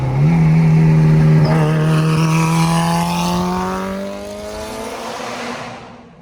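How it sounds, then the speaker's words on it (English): Turbocharged Mitsubishi Evo 8 with a bumper-exit exhaust revs loudly and close, its engine note climbing steadily with a brief stutter, then easing off and fading at the end. "Tim Riddle, the same guy who did my turbo kit, we did a bumper exit and it sounds beautiful."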